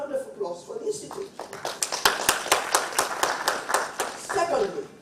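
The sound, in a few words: round of applause for the Institute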